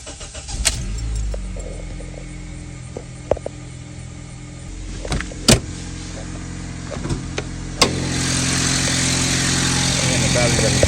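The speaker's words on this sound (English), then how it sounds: "today's subject here, complaint, noisy power steering pump" A Honda Civic cold-starts with a noisy power steering pump, producing a steady engine hum and whine broken by a few sharp clicks and clunks, with the running noise growing louder near the end.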